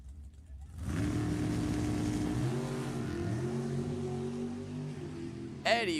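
A funny car launches at a drag strip and lifts into a wheelstand, its engine bursting into a loud sustained roar with shifting pitch that holds for several seconds before cutting off.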